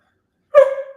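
A single short dog bark rings out sharply and close, alone after a moment of silence.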